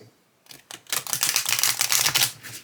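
Oracle cards shuffled by hand, a quick run of soft riffling clicks and papery flutters building after a brief pause, close and alone.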